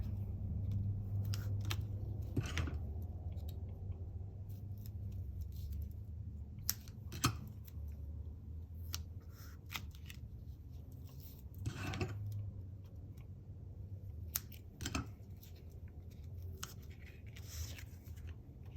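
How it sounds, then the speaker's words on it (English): Tape is laid onto a Christmas scrapbook layout, producing quiet, sporadic close-up crackles, taps and rustles of paper over a faint hushed background. "I am going to add my tape to this"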